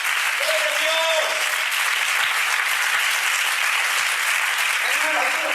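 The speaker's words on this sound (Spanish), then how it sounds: "Dale un fuerte aplauso." A church congregation breaks into strong, sustained applause, a thick continuous roar of clapping with a few shouted voices rising above it at the start and again near the end.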